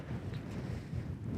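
Strong wind of about ten metres per second blowing over lake ice during fishing, with light rain, a steady loud roar buffeting the microphone.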